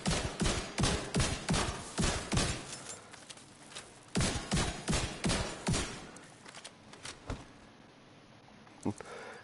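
Rapid bursts of shotgun fire in The Division 2, a fast run of sharp, loud blasts in quick clusters separated by brief pauses, with a few scattered shots and thuds trailing off near the end.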